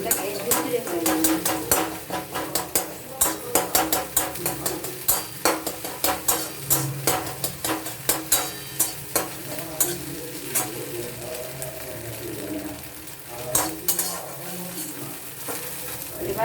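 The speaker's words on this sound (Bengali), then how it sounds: "চাউমিনের জন্য ওই জন্য ডিমটাকে ঝুরঝুরে করে নেব।" Egg being scrambled into fine crumbs in a kadai for chow mein, with rapid repeated spatula scrapes and taps against the metal pan over a steady frying sizzle throughout.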